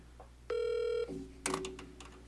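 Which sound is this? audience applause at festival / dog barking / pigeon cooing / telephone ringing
telephone ringing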